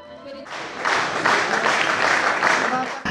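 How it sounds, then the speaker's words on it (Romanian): Audience in a village culture house gives a standing ovation after a folk performance, a brief voice and tones giving way to a full wash of clapping that holds steady and loud, then cuts off near the end. "Spectatorii veniți în Casa Raională de Cultură satul Abaclia au rămas încântați și au exprimat admirația sa aplaudând în picioare."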